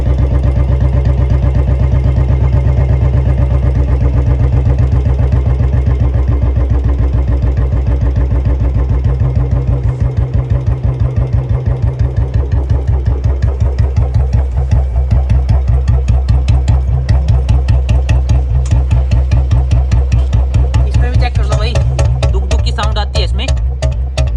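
Royal Enfield Bullet motorcycle engine idling with a BS4 CDI unit and raised RPM, a loud, steady close-up thump that turns into a rapid, uneven pulsing beat partway through, with no talking.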